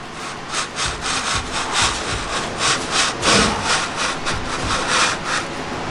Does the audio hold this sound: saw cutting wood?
yes